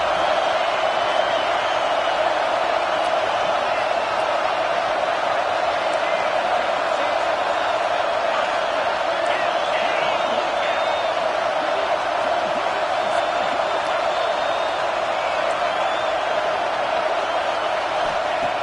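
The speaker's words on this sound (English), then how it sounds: "And here comes the noise. This crowd is trying to inspire this defense" A large stadium crowd at a Notre Dame versus Clemson football game roars continuously, a dense wall of cheering and shouting that stays loud and steady throughout.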